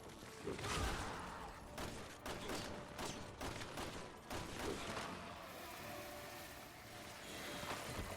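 Gunshots in the video game Resident Evil 6, fired in a repeated, uneven series of sharp cracks with booming tails over a constant rumbling backdrop, fairly faint overall.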